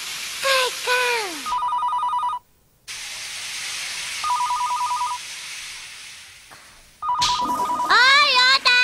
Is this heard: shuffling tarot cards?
no